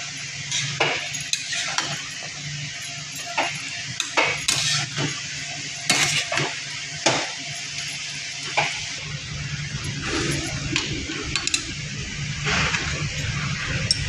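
Marinated chicken stirred in a cooking pan for chicken maharani, with a soft continuous sizzle broken by repeated scraping and clinking strokes of a utensil against the pan, close and fairly quiet.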